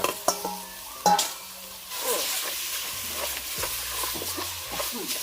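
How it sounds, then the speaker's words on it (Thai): Buffalo meat and chillies stir-fry in a pan, giving a moderate sizzle broken by scraping and clattering strokes of a utensil against the pan, with a few sharp knocks early on. "เราจะเอาพริกลงไปคั่ว ก็จะเอาเนื้อลงไปคั่วไปพริก"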